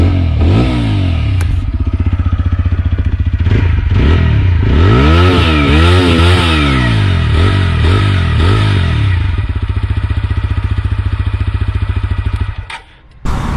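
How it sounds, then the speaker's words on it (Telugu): A TVS Apache RTR 160 4V motorcycle close by, its exhaust idling then blipped through several sharp revs that rise and fall, settling back to a steady idle before cutting off near the end; no voices. "ఒకసారి మీరు ఎగ్జాస్ట్ నోట్ అయితే వినండి"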